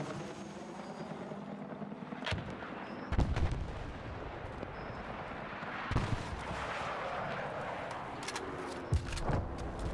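RPK light machine gun fire in the video game Battlefield 6, a few sharp bursts and single cracks scattered over a busy, rumbling battlefield bed with distant booms, fairly quiet overall.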